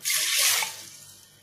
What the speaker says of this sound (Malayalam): ഇനി ഈ പയർ മുങ്ങി നിൽക്കുന്ന രീതിയിൽ നമുക്ക് വെള്ളം ഒഴിച്ചു കൊടുക്കാം.